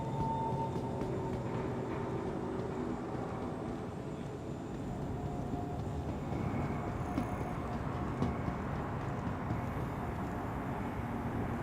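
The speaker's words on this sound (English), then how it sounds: "Yeah, train." In Star Citizen, a train rumbles past in a steady, dense roar that swells slightly toward the end, with no speech.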